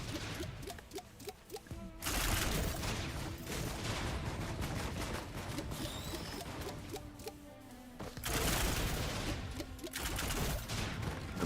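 Grenades explode in the Risk of Rain 2 video game, a dense, loud barrage of repeated blasts and gunfire-like bursts that swell in several waves over a busy game soundscape.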